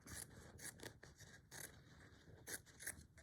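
Quiet snipping and scraping as scissors cut a bird shape out of paper, several short strokes in an uneven rhythm, close by.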